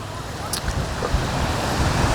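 Gentle waves washing onto a village beach with a continuous broad rush of surf and wind buffeting the microphone, while someone talks over it.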